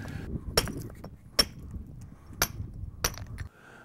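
A steel chisel strikes building stone in a series of sharp, ringing clinks, about five distinct hits spaced unevenly over a low background rumble, close and fairly loud, with no talk.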